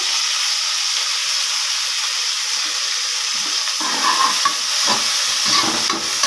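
Onion, chillies, mint and coriander leaves fry loudly in hot oil with a constant, close hiss, and stirring scrapes and bubbling pops grow busier in the second half.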